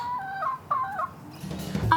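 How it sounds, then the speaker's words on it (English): Chickens clucking in a garden, a few soft nearby clucks and warbling calls rising over quiet outdoor background, with a slightly louder burst near the end. "I know when the chickens are awake because they usually fly over the fence and like to scratch and talk"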